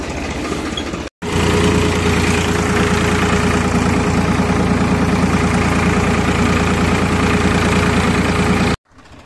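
A tractor engine runs at a steady loud idle, a constant low rumble that cuts off briefly near the start and again at the end.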